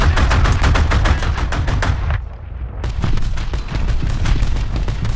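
Tank guns fire in War Thunder Mobile, a loud rapid stream of repeated shots with a brief drop in the middle before the firing resumes, close and continuous.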